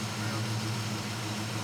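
A car engine with a carburetor idles steadily just after being started, its low, even hum droning without change, faint and muffled.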